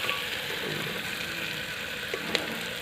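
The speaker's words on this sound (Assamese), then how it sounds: "মাংসটো ধুনীয়াকৈ লৰাই থাকিব লাগিব" Goat meat fries in a pan with a steady, moderate sizzle, and a couple of small scrapes or taps from stirring toward the end; no one talks.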